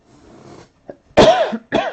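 A faint rustle, then two loud, harsh coughs close to the ear, the second shorter than the first.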